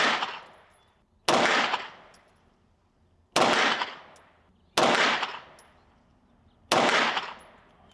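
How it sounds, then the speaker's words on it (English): Five loud, sharp gunshots from a Springfield Armory Kuna compact 9mm firing Nosler ASP 115-grain jacketed hollow points ring out at irregular intervals, each followed by a decaying echo, with no talking. "let's shoot some premium Nosler ASP. These are 115 jacketed hollow points"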